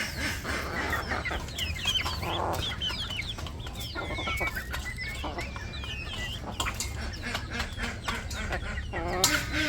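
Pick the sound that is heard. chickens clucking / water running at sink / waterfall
chickens clucking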